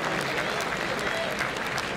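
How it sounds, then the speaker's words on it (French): Dense, steady audience applause at a martial arts event fills the whole stretch, loud and continuous like a crowd clapping together in a hall. "on va l'applaudir"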